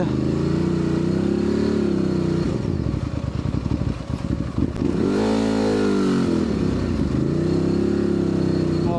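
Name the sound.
Ducati DesertX motorcycle riding through mud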